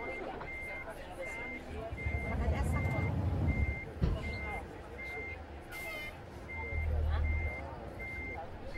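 A bus in a Brazilian driving simulator game backs up with a steady series of evenly spaced reversing beeps, joined by low engine rumble swells and a brief air brake hiss, as someone talks over it.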